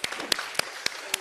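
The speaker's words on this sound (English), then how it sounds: "let's give him another round of applause" Applause from an audience at a presentation, sounding as sparse, evenly spaced sharp claps roughly every quarter second, fairly close and with no voices over them.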